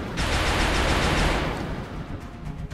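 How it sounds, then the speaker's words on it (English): Sustained burst of suppressive machine-gun fire from gunners in the XCOM video game, a dense loud roar of rapid shots that holds steady for over a second before tapering into softer rattling. "Suppression. It's why I love to have two gunners."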